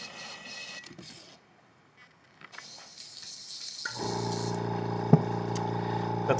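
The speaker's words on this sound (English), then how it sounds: "That's the sound of the compressor going off." An air compressor for an airbrush setup, used while painting a fishing crankbait, kicks on and runs with a steady mechanical hum that starts abruptly and continues loud and constant to the end, after quieter workshop sounds.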